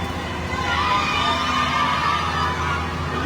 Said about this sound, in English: The cheers, you can hear the yell